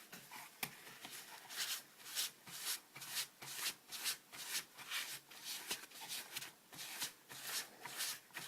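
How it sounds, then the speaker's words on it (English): Kitchen paper wiped repeatedly across a model aircraft wing, giving a steady run of soft, close rubbing strokes in an even back-and-forth rhythm. "So another bit of kitchen paper just for the wing."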